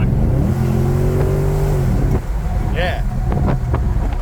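A Holden VS Calais V6 car accelerates hard with a transmission kick-down, heard from inside: a loud, steady engine drone that climbs, breaks off at the shift and continues under road and wind noise.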